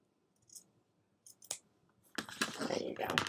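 Scissors snipping through fabric candy-wrapper pieces two at a time, a few quiet isolated clicks followed by denser cutting and rustling near the end.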